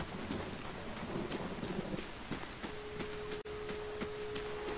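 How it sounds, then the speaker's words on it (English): Steady rain falls with rumbling thunder in the video game Pillars of Eternity, a constant soft patter under low rolls, with a sustained tone entering midway. "And it's still raining here though."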